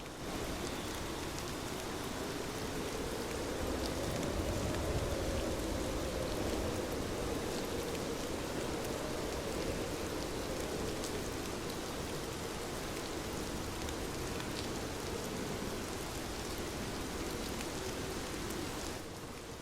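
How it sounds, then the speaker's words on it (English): Steady soft rain falls continuously, an even, insistent patter spread across the whole stretch with no voices, holding a constant close, moderate level throughout. "the rain began to fall again, soft and insistent"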